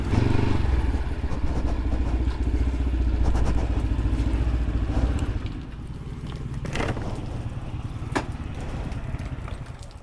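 A motorcycle idles nearby during work at a repair stop, its engine thrumming steadily before settling lower midway, with metallic clatter and sharp knocks from tools over the running motor.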